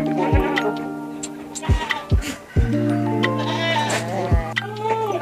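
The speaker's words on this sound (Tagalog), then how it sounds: "Umiiyak na yung mga kambing." Several Anglo-Nubian and Boer-Anglo goats bleat loudly and close by, one call after another in an uneven rhythm, with sharp knocks and clatter between the calls.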